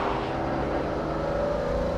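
A fast British car's engine revs hard through the gears, a loud, steady, throaty drone close by with no pauses and no talking.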